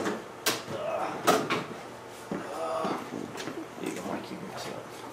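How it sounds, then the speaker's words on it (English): A drawer opens in a workshop as someone fetches a pair of channel locks, with short wooden or metal slides and knocks breaking up the speech of people talking nearby. "On the bottom drawer, Mike."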